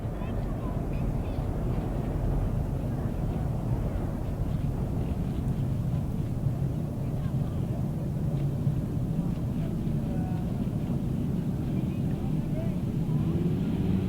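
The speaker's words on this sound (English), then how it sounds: "Revving up and away with race number 25, another heat of the 500 solos" 500cc solo grasstrack motorcycles revving at the start of a race heat at a 2008 British Masters qualifier, a dense, steady engine roar heard from a distance throughout, with a commentator talking over it.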